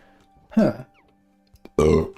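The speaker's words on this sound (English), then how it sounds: "I am literally burping like a bloody sailor today" Two loud, deep throaty burps from a person up close, the second longer and fuller, separated by a short near-silent pause.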